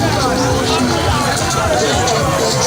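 A crowd of frustrated buyers at a Nigerian petrol station during a fuel shortage, a steady, dense murmur of overlapping voices close by with indistinct chatter throughout.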